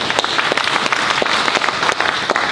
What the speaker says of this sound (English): please give yourselves a big applause